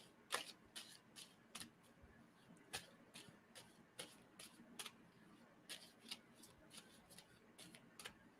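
Cards being shuffled in quick, crisp riffles and snaps, irregular clicks repeating close by and fairly quiet, with no voices.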